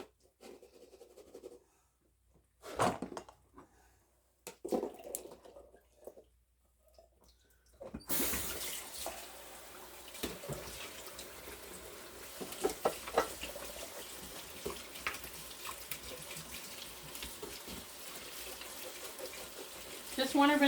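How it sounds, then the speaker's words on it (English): Canned beans are rinsed under a running kitchen tap, first with a few short bursts of water and handling clatter, then a loud continuous gush that fills the second half of the clip. "Just want to rinse them pretty good."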